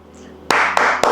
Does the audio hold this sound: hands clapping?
yes